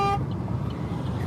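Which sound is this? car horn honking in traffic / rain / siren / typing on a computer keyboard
car horn honking in traffic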